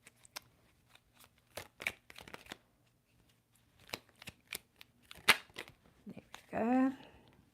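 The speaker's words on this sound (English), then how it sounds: "Now you saw me shuffling" Tarot cards are shuffled by hand in quick riffling bursts and taps, close and crisp, ending with a short voice at the end.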